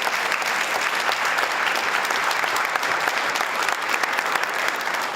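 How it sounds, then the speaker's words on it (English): Dense, sustained applause from an audience at a National Crime Victims Awareness Week event honoring victim advocates and partner agencies, loud and even throughout with no pauses. "Can we have another round of applause for, particularly for our victim advocates and our partner agencies?"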